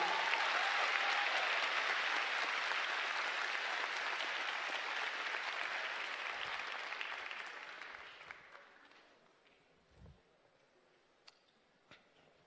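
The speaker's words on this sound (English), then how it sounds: "a round of applause for Rob, who committed his time to you" Audience applause after a speaker's introduction at a tech conference, loud and sustained for about eight seconds before thinning to scattered claps and fading out.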